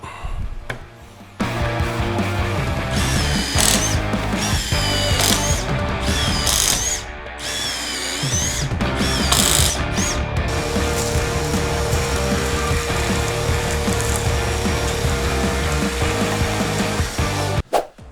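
Cordless impact driver on a fully charged 5.0 lithium battery, set to speed 3, drives a 3/8 inch bit; a loud continuous rattling, hammering whir runs for about sixteen seconds with only brief dips in pitch.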